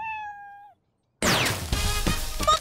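A cartoon cat stuck in a tree gives one clear, drawn-out meow, followed after a short silence by a loud, busy burst of music and sound effects.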